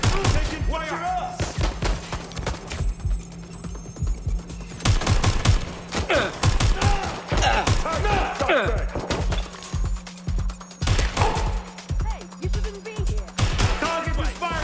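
Gunfire in the video game Watch Dogs Legion, with loud rapid bursts of automatic fire and repeated shots in quick volleys, close and punchy, under game voices and radio chatter.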